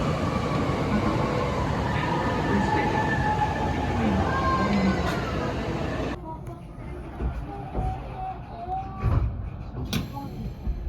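A Thunderbird limited express train arrives at a Kyoto station platform, a broad rolling rumble with brake squeal, then quieter station ambience with clunks and a faint announcement-like murmur.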